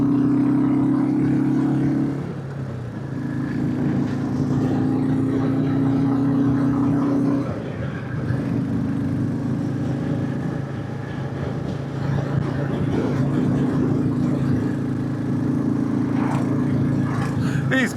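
Royal Enfield Classic 350 motorcycles ridden across Berwickshire from Kelso to Duns, a steady low engine drone with a few shifts in pitch, continuous and close throughout.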